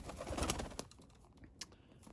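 Breeding pigeons of the Jansen De Klak line give a few soft, close coos with faint rustling between, quiet and brief.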